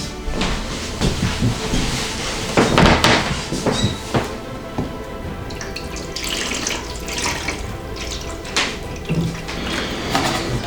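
Water is poured into a cup for watering indoor plants, with a continuous close splashing and trickling sound plus a few hard knocks of the vessel, without any talking.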